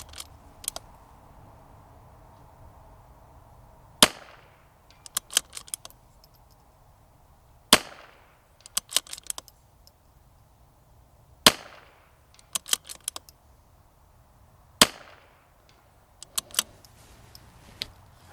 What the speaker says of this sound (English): That way we'll be sure we're shooting at that third dot.